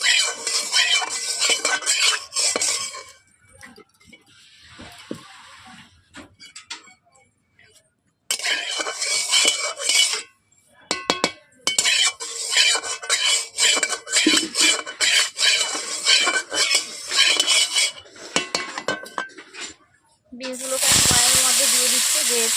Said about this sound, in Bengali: তেল দেওয়ার পর খুঁটি দিয়ে এইভাবে আমি নেড়ে দিচ্ছি